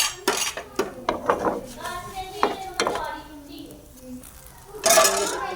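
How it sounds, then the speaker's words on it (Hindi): A metal spoon clinks and scrapes against a pan while flipping breakfast food, a run of sharp clattering hits with a louder clang at the end, under a talking voice. "चम्मच के साथ इसी तरह हम इसकी साइड चेंज कर लेंगे"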